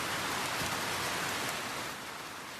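Steady rain falls outside a house at night, a dense, even hiss with no distinct drops, holding constant before easing slightly toward the end, with no voices.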